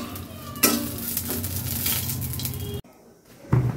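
Green chillies sizzle and crackle in a hot pan for potato dal, with a fairly close, steady frying hiss and a few stirring clatters, a brief break, then sizzling resumes loudly.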